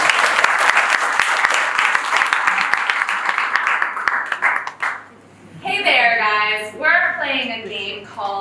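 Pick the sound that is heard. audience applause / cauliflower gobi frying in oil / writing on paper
audience applause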